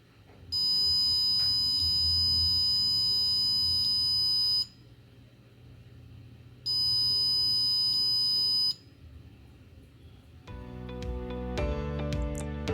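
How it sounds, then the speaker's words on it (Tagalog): A loud, steady electronic buzzer tone from an Arduino buzzer module sounds twice in long bursts of several seconds each, separated by a pause, with other electronic tones after. "the buzzer will turn on"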